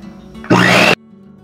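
An electric mixer runs for one short burst, whirring loudly and close, while beating eggs and sugar for a cake batter. Quiet room tone comes before and after, with no talk.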